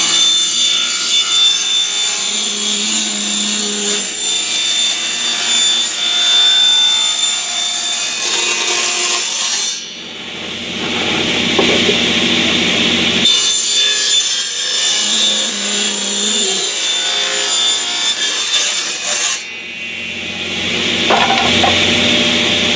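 A hand saw cuts through a wooden gun case with steady, rhythmic rasping strokes, loud and close, in two long bursts separated by short pauses.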